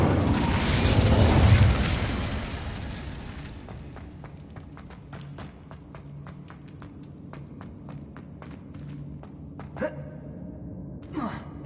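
Incendio fire spell cast in Hogwarts Legacy: a broad, roaring whoosh of flame swells over the first two seconds and fades, followed by soft footsteps and faint ambience.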